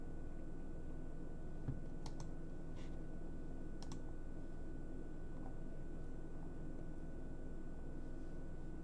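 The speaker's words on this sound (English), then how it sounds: "sometimes when it pauses like this, I just press enter on my keyboard." A few scattered key clicks on a computer keyboard, including an Enter press, come as faint, brief taps over a steady hum of background noise, with no talk.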